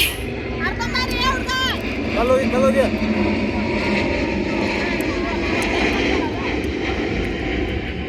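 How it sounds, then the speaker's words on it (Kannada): A propeller airplane drones steadily overhead above a farm field, its engine hum filling the background while a person talks over it. "ನಮ್ಮ ಹೊಲ್ದಾಗ ಏರೋಪ್ಲೇನ್ ಮ್ಯಾಗ ಕಾಣ್ತಾವ್ರಿ"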